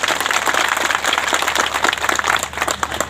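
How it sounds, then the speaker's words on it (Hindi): A crowd claps loudly and continuously at an outdoor Sarna religious gathering held at a home in a village in Gumla, a dense patter of many hands throughout the short burst. "जोर से तालियां बजाइए"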